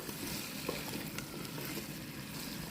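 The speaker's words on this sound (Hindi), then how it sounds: "गोभी को गोश्त के साथ अच्छी तरह मिक्स कर लेंगे" Cauliflower and meat sizzle steadily in a pan while being stirred together, a continuous close frying hiss with faint scraping.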